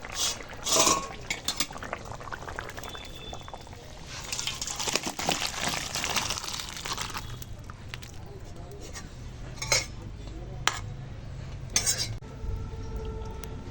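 Cooked katla fish curry with drumsticks is poured and scraped out of a pan, with metal spoon clinks, scraping of cookware and a soft liquid slosh in a home kitchen.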